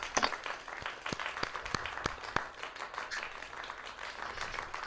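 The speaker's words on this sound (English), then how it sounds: "Let's get a round of applause." A small round of applause, scattered individual claps in a loose uneven rhythm for several seconds, fairly faint and roomy, with a little background murmur.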